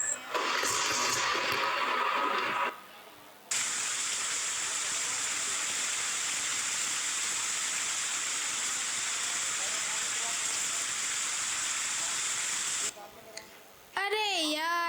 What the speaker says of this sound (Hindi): अरे यार, ये बारिश भी अभी होनी थी, पूरा खेल बिगड़ग या।